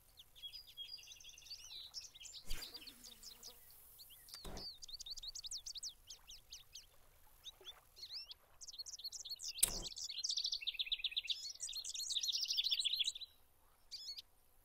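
Birds chirp and tweet in a Fishing Planet fishing scene, bright repeated calls and trills from several birds close by, with two sharp knocks breaking in and a denser burst of twittering toward the end.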